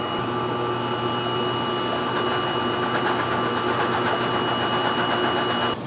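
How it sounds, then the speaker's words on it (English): A Revel 2402 T DTF printer runs with a steady, loud mechanical whir and hum that continues without a break, with no one speaking. "how I get my DTF printer running in the morning"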